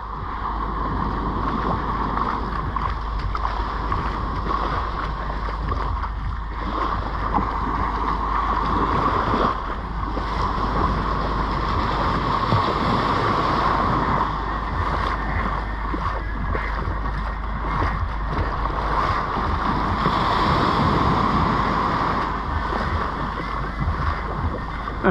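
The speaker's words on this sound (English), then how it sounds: "I'm like walking in the waves" Ocean surf washes continuously around someone walking through the waves on Seven Mile Beach in Negril, Jamaica, a steady close rush of water and splashing with wind-like noise throughout.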